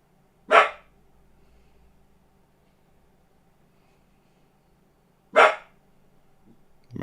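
A dog barks twice, each a single sharp, fairly loud bark several seconds apart over a quiet indoor background.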